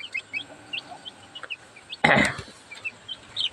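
Broiler chickens in a backyard poultry pen give soft scattered clucks and chirps over a steady low hum, with one louder burst of flapping or clucking near the middle.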